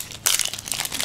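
Foil wrapper of a first-edition Ancient Prophecy Yu-Gi-Oh card booster pack torn open up close, a sudden loud crinkling burst followed by continued rustling and crumpling.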